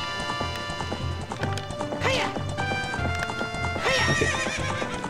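Rapid clip-clop of galloping hooves in The Legend of Zelda: Ocarina of Time, with two loud horse whinnies rising over them, busy game sounds and some voice in the background.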